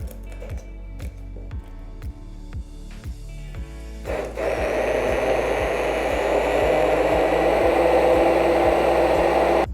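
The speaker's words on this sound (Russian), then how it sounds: "Я переложу клубнику в емкость с высокими краями и погружным блендером" An immersion blender purees cooked strawberries in a tall-sided container. It starts as a rhythmic low motor pulse with scraping, then rises at about four seconds into a loud, steady whirring blend that holds to the end. No voices are heard.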